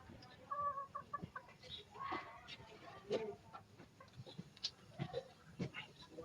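Gamefowl chickens clucking close by in an irregular chatter at feeding time, with occasional louder squawks and faint background noise.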